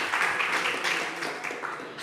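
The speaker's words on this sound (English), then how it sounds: "please a round of applause for Clio, and let's warm her up very well" An audience claps to welcome a speaker at a game developers' event in Graz, a dense, moderately loud burst of applause that thins out over two seconds.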